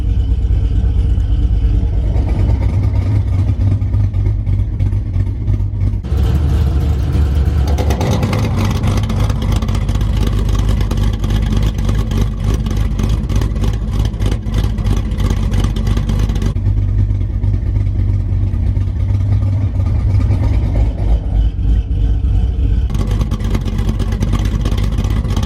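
A Camaro ZL1 with nitrous, around 1000 hp, roars continuously with a very loud exhaust, its engine revving and surging in waves, close and overpowering, with no voices.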